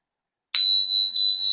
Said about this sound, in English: breathing profoundly to the sound of the bell